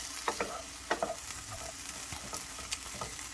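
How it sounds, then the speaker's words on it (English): Half a large onion sautéing in a pan, with a steady, fairly quiet sizzle broken by several sharp stirring scrapes and clicks, and no voices. "we're going to go ahead and saute these for about 3 to 4 minutes"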